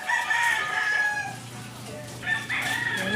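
A neighbor's rooster crows twice nearby with chickens around it, long rising calls separated by a short pause, over a quiet backyard background.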